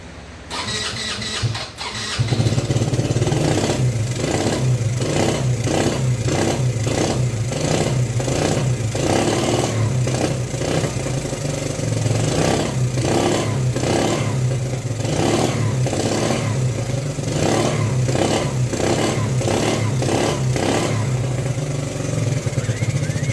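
A Yamaha 80cc quad's small engine cranks briefly, then catches and runs steadily with a rhythmic, pulsing throb of repeated revs, loud and close, with no talk over it.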